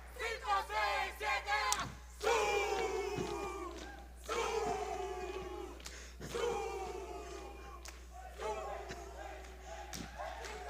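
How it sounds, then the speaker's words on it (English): A large audience at the Devcon VI opening ceremony on the Bogotá main stage cheers and whoops loudly in ragged bursts, voices rising and falling over roughly ten seconds with brief dips between swells. "Let's give another round of applause, another round of applause, another round of applause."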